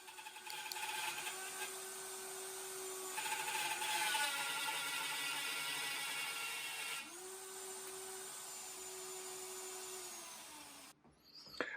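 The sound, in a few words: mortise jig cutting a mortise in a pecan wood table leg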